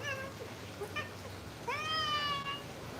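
A cat meows up close, with one short call near the start and a longer, rising, drawn-out meow about halfway through, over a quiet outdoor background.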